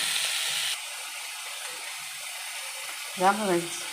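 Drumsticks sautéing in a pan for a Tamil-style drumstick broth, giving a steady soft sizzle and hiss throughout that is louder early on, with a brief clatter near the end.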